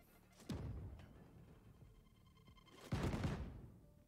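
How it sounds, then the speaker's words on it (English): Explosions and gunfire from a zombie video game: two heavy booming blasts, one near the half-second mark and a louder one near three seconds, each rumbling out over a low background of game noise. "All the explosions."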